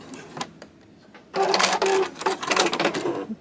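A home sewing machine stitches a fabric-wrapped rope bowl, starting with a few faint ticks, then breaking into a loud, close, rapid whirring run with brief pauses and changes in speed.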